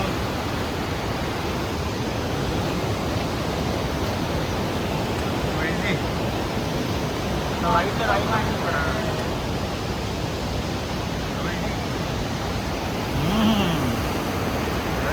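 A clear mountain stream rushes below a rope bridge on the Goechala trek in forested hills, a steady broadband roar filling the whole stretch, with faint voices briefly audible over it.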